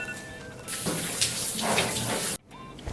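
Tap water gushes steadily into a sink to rinse 3CE Baby Pink Treatment Hair Tint out of hair, loud and close for about two seconds before the flow cuts off abruptly.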